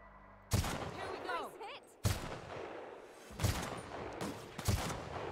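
Gunfire from The Outer Worlds rings out in a secret laboratory on Terra 2: four loud, separate shots spaced over several seconds, each a sharp crack with a short ringing tail, and some faint mechanical whirring between them.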